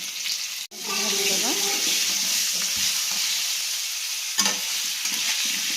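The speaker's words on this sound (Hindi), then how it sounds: "आलू को भाजीदवा" Steady sizzling of potatoes frying in a hot pan for a mutton curry, with occasional scraping and stirring sounds breaking through.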